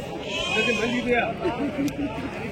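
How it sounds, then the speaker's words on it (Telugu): A young suckling lamb bleats several times in short wavering cries, close by at a sheep market, while people talk over it. "ఇక్కడ ఒక పాలు తాగే గొర్రె పిల్ల ఒకటి ఉంది"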